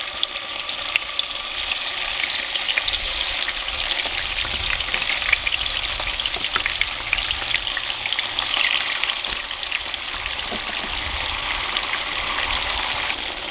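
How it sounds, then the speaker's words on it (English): Firm tofu frying in hot oil, a steady dense crackle and hiss that holds at the same loud level throughout, with no voices. "So I'm going to heat up the oil and drop this in."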